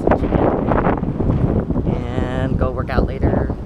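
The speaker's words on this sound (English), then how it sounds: "I don't know if you guys could hear me, it's pretty windy" Gusty outdoor wind buffets the microphone in a loud, continuous rumble, with a person talking through it.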